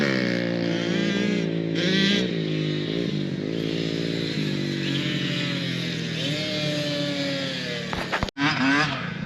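A child's 4-stroke dirt bike rides nearby, its engine droning with rising and falling revs and a steady buzzing pitch that sweeps up near the end.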